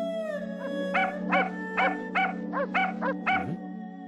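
A dog whimpers and yelps in a rhythmic run of about eight high, tonal cries over a steady low hum, close and fairly loud.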